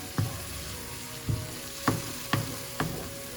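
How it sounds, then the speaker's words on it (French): Food of rice and vegetables sizzles steadily in a pan while a wooden spoon stirs it, with five soft knocking scrapes spaced about half a second apart over the constant frying hiss. "Avec une cuillère en bois, je mélange."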